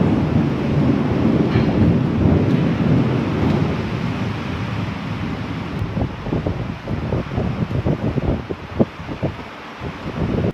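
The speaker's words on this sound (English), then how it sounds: "Wow, what lightning! I've never heard thunder like this before." Heavy rainstorm with a long, low thunder rumble that swells and fades against steady rain and wind noise, followed by a patter of heavier drops or crackles.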